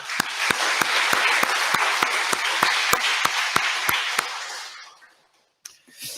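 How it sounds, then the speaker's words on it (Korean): A church congregation claps together in a steady rhythmic beat, about a dozen sharp unison claps over a wash of applause, then fading to near silence. "우리가 다 하나라는 뜻으로 박수 한번 치고 하겠습니다."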